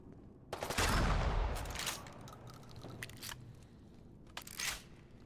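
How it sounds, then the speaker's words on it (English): Automatic pistol gunfire in Fallout 4, heard as a loud burst of rapid shots near the start, followed by scattered sharp pops and clatter over the next few seconds. "Ooh, it's an auto pistol, isn't it?"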